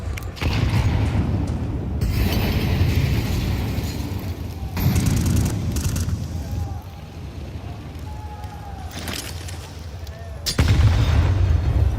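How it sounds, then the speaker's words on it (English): Grenade blasts in a Counter-Strike 2 match at the IEM Cologne Major, heavy booms that burst out three times, at the start, the middle and near the end, amid mechanical game noise with a voice faintly underneath. "Grenade towards Kiyosuke."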